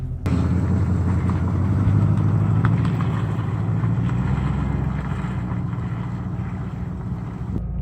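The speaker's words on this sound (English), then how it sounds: "Okay, so we're driving the Lincoln Town Car now." A 1988 Lincoln Town Car cruises along with a steady low engine drone and road rumble, mixed with wind buffeting across the microphone from start to finish.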